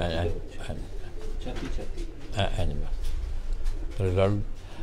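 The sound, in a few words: pigeons cooing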